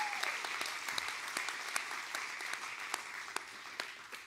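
A church congregation claps, a soft, steady patter of many hands heard from a distance, with a few sharper individual claps standing out.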